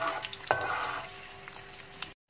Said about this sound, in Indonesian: masukin bawang merah dan bawang putih, tumis sampai harum